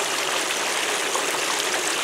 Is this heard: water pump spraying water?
yes